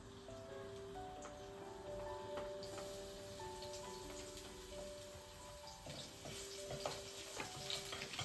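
Chopped garlic frying in a pan of hot olive oil gives a soft, steady sizzle with faint crackles, quiet and close, while a few brief tonal sounds come and go.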